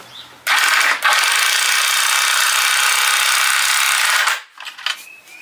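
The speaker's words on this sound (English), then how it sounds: "My lag bolt's in. I'm going to sink it a little bit more." A Wild Edge 7.5 amp, 1/2 inch drive electric impact wrench drives a lag bolt into wood. It gives one loud, continuous burst of about four seconds, then a few brief rattles after it stops.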